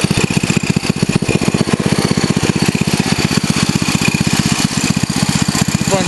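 Tractor engine driving through woodland, chugging steadily with a fast, even pulse of low firing beats, loud and close and running alone for the whole stretch.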